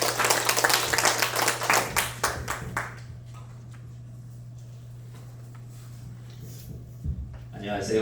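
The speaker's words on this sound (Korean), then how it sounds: "큰 박수 부탁드리겠습니다" An audience greets a lecturer with loud, dense applause that lasts about three seconds, then dies away to a quiet room with a low steady hum.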